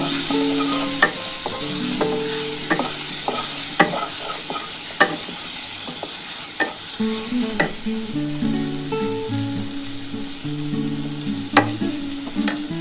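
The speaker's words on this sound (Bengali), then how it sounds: "দিয়ে ভালো করে একটুখানি হালকা করে ভেজে নেব।" Turmeric fries in a pan for mango chutney, a loud continuous sizzle with repeated scraping clicks of a spoon stirring throughout.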